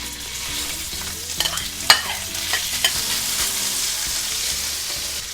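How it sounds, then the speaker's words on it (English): Pork hits a very hot, oil-coated wok and sizzles steadily, with a few sharp clinks and scrapes of utensils against the metal partway through and no voices. "Add the pork first."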